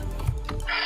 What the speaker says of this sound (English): Let's type in best 4 there.